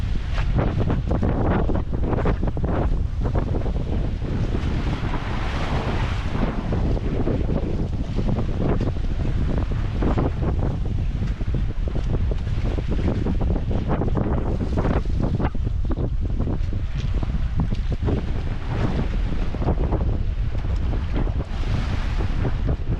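Strong wind roars against a boat as a typhoon approaches, buffeting the microphone in continuous loud gusts for the whole stretch, with water and surf churning underneath and no talk.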